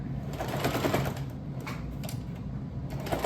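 A sewing machine stitches stretchy fabric in a steady, continuous mechanical whir with rapid needle clatter, close and fairly quiet, running alone without talk.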